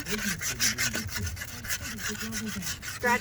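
Scratching surface rust off the rims of a 1980 CJ7 Jeep, a continuous close abrasive rubbing with a rhythmic back-and-forth pulse, loud and steady with no talk.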